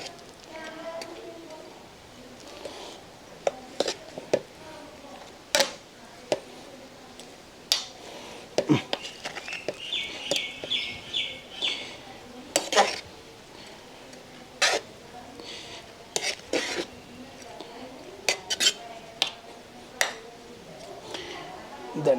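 Yemeni-style Zurbian chicken biryani is stirred in a pot, giving scattered sharp clicks and spoon scrapes at irregular intervals. The sounds are fairly faint, with a voice speaking between them.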